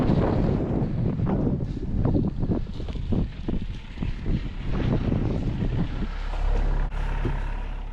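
Strong wind buffets a sailboat deck while at anchor, gusty rumbling microphone noise with flapping, rattling bursts and a steady low roar, loud and close throughout.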